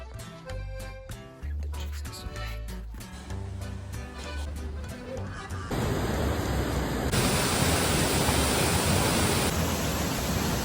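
Mountain river near Rishikesh rushes steadily, a broad hissing roar that starts under music and then fills the scene loud and close on its own.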